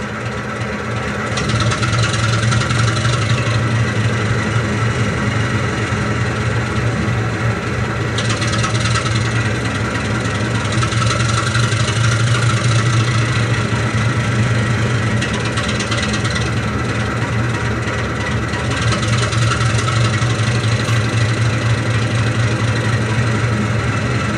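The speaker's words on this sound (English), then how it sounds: "I'll notch the engine up and down." A heavy diesel locomotive engine drones steadily for a long stretch, its roar swelling and easing several times as it is notched up and down.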